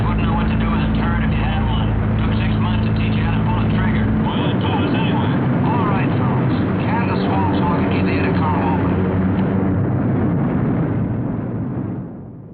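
Heavily armed World War II military bomber aircraft fly in close formation over Germany, their engines making a loud, continuous, rumbling drone that swells and then fades slightly at the end.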